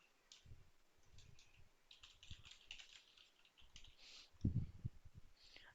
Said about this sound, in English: So I'm going to type something here